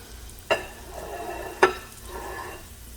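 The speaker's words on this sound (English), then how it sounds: "I don't know if you can hear that sizzle or not." Chicken sizzles steadily in a frying pan, broken by two scraping stirs of a utensil against the pan.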